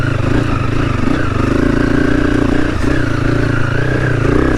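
A Honda CRF300 dirt bike in its final Stage 4 setup pulls hard in second gear on technical single track, its single-cylinder engine droning loud and steady with a rough rhythmic pulse and faint clatter, no voices over it.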